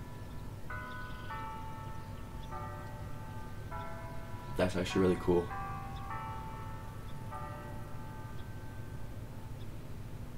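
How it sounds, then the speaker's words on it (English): Chiming bells ring out in Disney Dreamlight Valley, a short cluster of bright overlapping strikes among soft melodic game music and ambience, with a person speaking just after. "As the bells chime."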